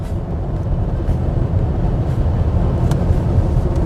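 A steady, muffled rolling drone from a BMW iX electric car driving and slowing under braking, heard from inside as continuous low road and tyre noise with no voices.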